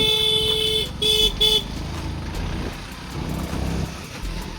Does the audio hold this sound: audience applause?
no